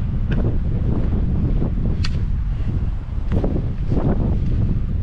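Strong wind roars across an open mountain top during a rainy 55 km Karhunkierros trail race, a constant heavy buffeting rumble on the microphone with a few sharp gust bursts, close and loud.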